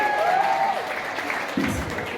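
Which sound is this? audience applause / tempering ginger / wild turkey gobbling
audience applause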